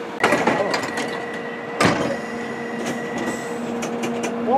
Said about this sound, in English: One Bakerloo train goes